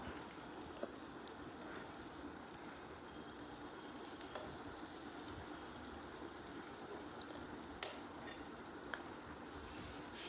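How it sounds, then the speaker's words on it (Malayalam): Kingfish pieces fry in a pan, giving a soft, steady sizzle and crackle that runs unbroken and fairly quiet, with an occasional small pop or clink. "ഏകദേശമൊക്കെ മീൻ ഫ്രൈ ആയി വന്നിട്ടുണ്ട്"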